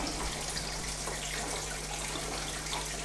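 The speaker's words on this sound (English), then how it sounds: "give it a few seconds to drain most of the developer off into the developer dish" Liquid developer runs steadily off a black-and-white photographic print into the developer dish, a constant near trickle and splash that holds at an even level throughout, with no talking.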